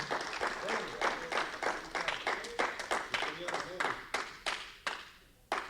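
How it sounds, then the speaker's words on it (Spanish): A church congregation claps in a fast, steady rhythm, loud and close, the claps landing evenly for several seconds before thinning out, with voices mixed in underneath. "Gloria a Dios por esos aplausos"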